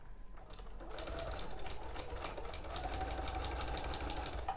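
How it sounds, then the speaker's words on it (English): Domestic sewing machine stitching fabric, a steady rapid mechanical whir and chatter running continuously and fairly close, with faint talk in the background. "You can position them as you're sewing as well."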